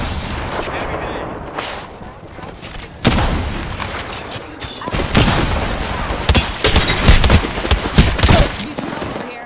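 Gunfire rattles through an Apex Legends firefight in rapid, dense volleys with thumping impacts, growing louder and more continuous in the second half.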